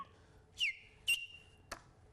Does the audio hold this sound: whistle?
yes